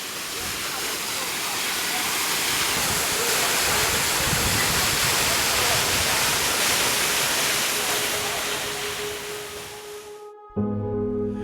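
Jeongbang Waterfall on Jeju pours down with a loud, steady roaring rush of falling water that holds for about ten seconds before cutting off abruptly to a faint, different background.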